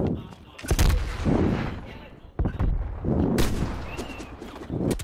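Gunfire in Black Ops Cold War Search and Destroy on Crossroads, several sharp loud shots and booming reports spaced irregularly, with rumbling echoes between and a player talking.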